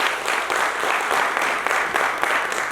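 Audience clapping at a company launching ceremony, a full, steady burst of applause from a crowd that continues strongly throughout without pause.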